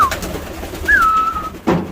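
Racing pigeons coo in a loft, young birds and stock birds together, with a clear close coo over a soft, steady background murmur of other birds.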